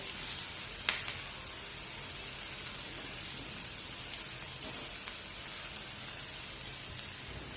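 Chopped capsicum sizzles steadily in a pan with softened onion as it is sautéed, a constant soft hiss and crackle of frying with a brief sharper pop near the start.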